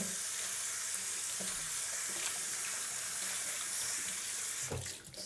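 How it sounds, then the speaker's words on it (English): Hands being washed under a running kitchen tap during a dessert-making session: a steady, close stream of water splashing into a sink, continuous throughout, ending with a brief clatter as the flow is disturbed. "sorry, I had to wash my hands"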